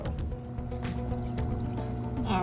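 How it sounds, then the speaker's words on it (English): An air pump bubbles water in a Vevor deep water culture hydroponic kit, producing a steady close gurgle and trickle with occasional splashy pops, continuous throughout. "I got the air bubbles working."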